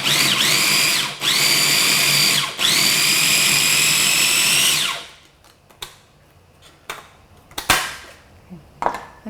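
A loud electric food chopper whirs through scallions in three bursts over about five seconds, then stops, followed by faint clinks and taps of utensils.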